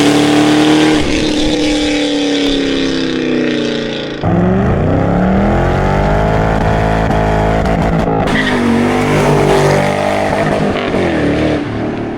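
A fifth-generation Camaro ZL1 or a Cadillac CTS-V roars past at close range, very loud. The engine note rises to a howling pitch, drops sharply as the car passes, then builds again into a second strong pull.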